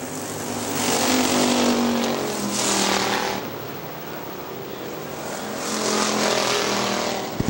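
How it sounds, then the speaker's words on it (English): Factory stock race car engines roar past in waves on an oval speedway, rising and fading as cars circle the track, with a steady loud drone between passes. "Phil Osra out of turn two. Heading for the checkered"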